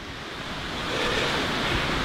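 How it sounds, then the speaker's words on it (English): Wind rushes and buffets against the microphone in a steady, loud roar that swells a little midway, with no other sounds. "A bit windy."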